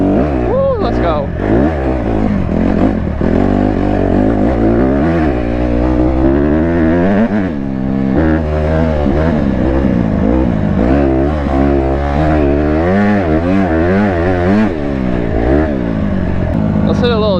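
A dirt bike engine revs hard and continuously in a muddy lot's mud pit, its pitch sweeping up and down through repeated throttle blips, loud and close throughout.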